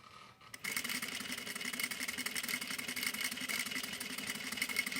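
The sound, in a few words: sewing machine sewing parallel lines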